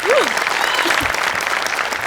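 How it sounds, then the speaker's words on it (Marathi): A studio audience at a Marathi comedy show applauds loudly and continuously for a performer, with a brief rising-and-falling whistle-like tone near the start and voices heard over the clapping. "दत्तूसाठी एकदा टाळ्या."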